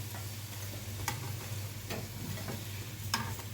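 Food frying in oil gives a steady, soft sizzle throughout, with a few faint ticks and taps rising above it and no talking.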